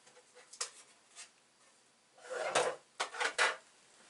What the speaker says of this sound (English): I'm going to twist it to the side slightly so it doesn't clunk as it goes through the machine